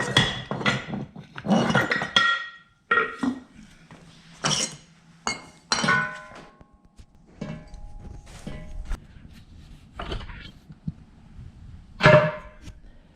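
Ford Mustang manual transmission being pulled apart by hand, irregular metallic clinks, knocks and clunks of parts, close and fairly loud with short pauses between.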